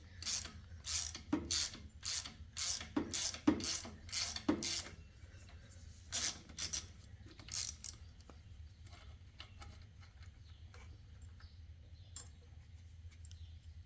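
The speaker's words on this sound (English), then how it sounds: "I'm going to start with this bolt on this side, remove it completely" A 1/4 inch ratchet with an extension and a 1/2 inch socket loosens a bolt on a Briggs and Stratton starter. Quick bursts of close, sharp clicking repeat in a rhythmic series, then a few more strokes before a quiet, faintly rattling pause.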